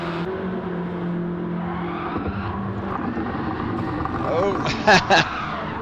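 In Gran Turismo 7, driven with a Logitech G923 racing wheel, a car's engine drones steadily while its tires squeal and skid, and a brief exclamation is spoken over the noise.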